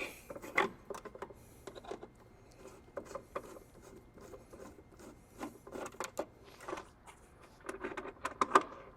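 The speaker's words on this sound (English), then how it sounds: "I'm going to take the screws out." A screwdriver works screws out of a kegerator control board: faint, close scraping and ticking with small metallic clicks, irregular and quiet throughout.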